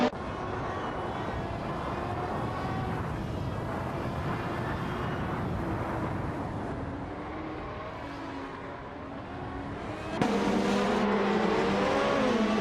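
1988 Formula One race cars lapping the Hungary circuit in a racing game, with high-pitched engines droning and revving continuously, pitch rising and falling through gear changes, and a closer, louder engine surging in near the end.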